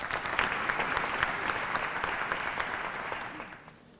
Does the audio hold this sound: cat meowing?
no